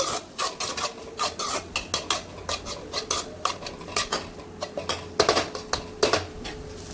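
Egg being sautéed in a pan for chicken kothu idiyappam, rapid repeated metal scraping and clattering of a spatula against the pan, close and loud, with no talking.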